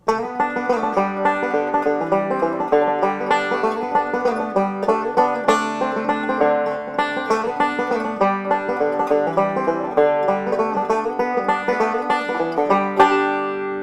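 A plucked five-string banjo plays a quick, rolling tune in a steady three-beat rhythm with drive, bright and close, with no voices.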